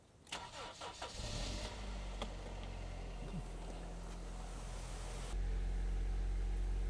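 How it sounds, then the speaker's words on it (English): A car engine cranks and catches, then settles into a loud steady idle that grows heavier near the end; the engine has overfilled oil and a water leak and is throwing white smoke. "now I'm gonna go start the engine"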